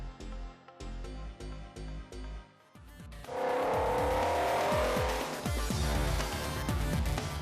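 McLaren Artura Spider drop-top supercar engine roaring loudly and steadily after a few seconds of separate rhythmic music-like beats, with sharp repeated transients over a dense, sustained mechanical roar.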